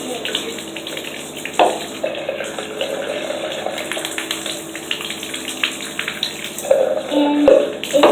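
Water runs steadily from a bathtub tap during a dog's bath, a continuous mid-level splashing rush that persists throughout, with brief louder splashes and a voice talking over it at times.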